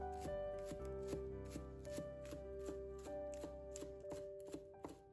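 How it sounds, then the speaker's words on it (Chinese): A knife chops green onion leaves on a cutting board in a steady, even rhythm of about a dozen close, crisp strikes over a faint constant hum. "剩下的葱叶也将它切成葱花"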